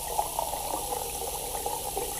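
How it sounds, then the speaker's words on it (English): Water running into a big cooking pot in a kitchen cooking simulator game, a steady, soft splashing pour from a tap with no talk. "We're getting the water in the pot."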